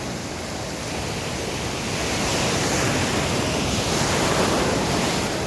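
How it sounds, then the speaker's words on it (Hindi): Sea waves break and wash steadily onto a beach in Goa, a continuous broadband surf roar with no distinct voices, growing slightly louder toward the end. "समुद्र तो ऐसे ही लेयर बनाता रहेगा, वेव्स आती रहेगी"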